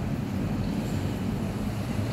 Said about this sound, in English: But these waves are cray cray, like super duper.